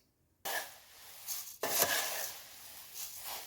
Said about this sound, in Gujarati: હવે એને આપણે મમરામાં મિક્સ કરી લઈએ. ચાલો પહેલાં અમે સિંગદાણા મિક્સ કરી લઈએ.